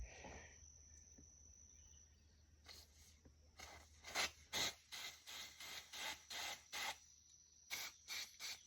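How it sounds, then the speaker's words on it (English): A series of short hissing spray bursts into the carburetor of a 2007 Honda Shadow 750, about a dozen, rhythmic and close, after a quiet start with a faint high whine. "I'll spray into it anyway."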